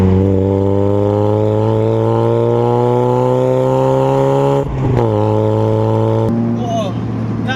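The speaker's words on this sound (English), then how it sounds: "I really just want to hear how the exhaust sounds." Mazda MX-5 exhaust heard from inside while driving, a steady droning engine note rising gradually in pitch, broken by a gear shift, moderately loud and close.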